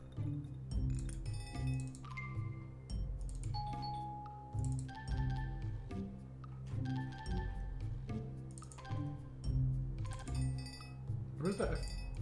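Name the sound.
ding-dong bell sound in a video game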